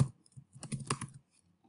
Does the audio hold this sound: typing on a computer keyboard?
yes